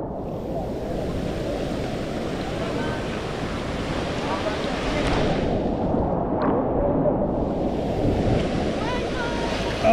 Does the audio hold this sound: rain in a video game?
no